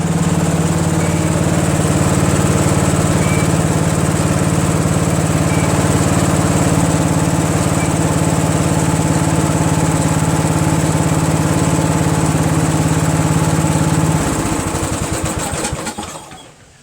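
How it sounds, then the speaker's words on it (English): A Craftsman mower's 14.5 hp Briggs OHV engine with a Walbro carburetor runs steadily and loudly up close, uncovered, with a constant droning hum that holds for most of the stretch before winding down at the end. "This engine runs nice."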